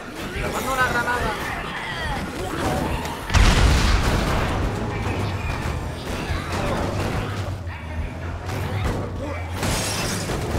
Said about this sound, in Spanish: ¡Le mando una granada!